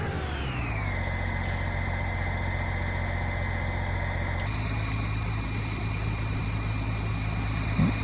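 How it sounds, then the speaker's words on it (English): A tractor engine idles steadily in Farming Simulator 19 during a late-night delivery, a continuous low rumble that settles after its first second and shifts slightly partway through, close and alone. "Don't forget to turn the engine off, save some fuel."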